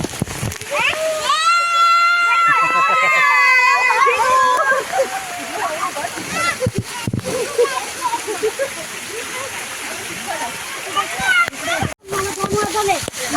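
Loud, constant rush of a colony waterfall after heavy rain splashing close by, with excited voices, shrieks and chatter over it throughout.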